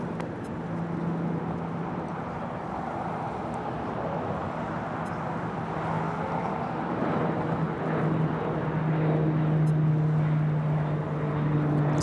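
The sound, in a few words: Pilatus PC-12 turboprop plane taking off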